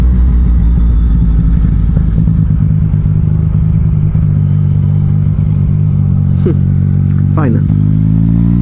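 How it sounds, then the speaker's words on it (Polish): A small motorcycle's engine drones loud and close throughout, a steady low rumble with slight revving, on an Alpine road near Lake Bohinj in Slovenia; someone speaks briefly over it. "Taki motorek, takie maleństwo."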